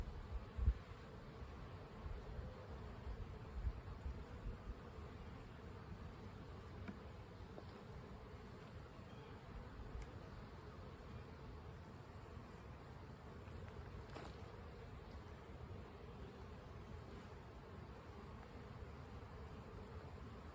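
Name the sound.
honey bees buzzing during hive inspection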